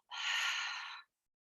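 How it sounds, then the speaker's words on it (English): A single long, breathy yawn during a mindfulness breathing exercise, heard as a close, soft, airy exhale lasting about a second before silence. "Couple yawns, that's a good breath."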